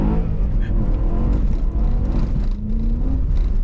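V8 car engine revving hard on a dirt track, a loud, continuous, throaty roar with rising and falling pitch, close by and filling the whole clip.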